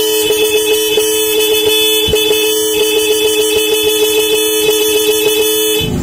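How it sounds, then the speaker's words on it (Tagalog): A Honda Smash 115 motorcycle horn honks steadily and loudly for about six seconds, a continuous nasal tone held close by over a running idle, with no talking. "Ating magbusina."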